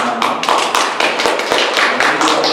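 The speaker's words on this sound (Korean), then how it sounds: "박수 올려드리겠습니다" A church congregation bursts into loud, close applause, dense rapid clapping from many hands filling the room with an even, continuous roar of claps.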